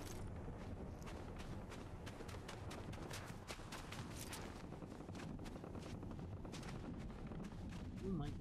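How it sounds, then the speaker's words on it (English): Steady gunfire in Fortnite, a dense run of sharp repeated shots mixed with game noise, sustained at moderate distance for the whole stretch with no pause. "Lots of shooting."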